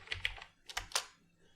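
Typing a Google search on a computer keyboard, two short close bursts of light key clicks separated by a brief pause, no speech.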